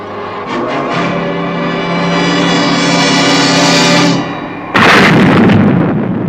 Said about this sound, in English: It seemed like an eternity before that missile struck home.